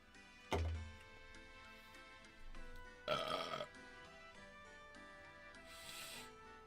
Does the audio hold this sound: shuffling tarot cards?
no